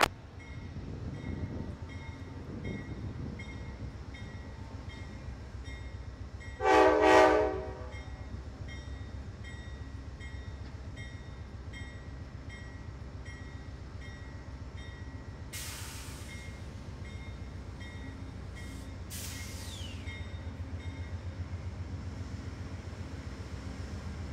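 An Amtrak Cardinal passenger train arriving at Alderson, a steady rail rumble with a brief horn blast partway through and a couple of sharp high squeals later, heard from on board.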